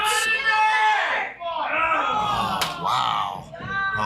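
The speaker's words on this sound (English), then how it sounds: "the Greeley crowd in here is going crazy" Spectators at a pool hall match cheer and yell loudly together, a dense roar of excited voices that rises and dips over several seconds.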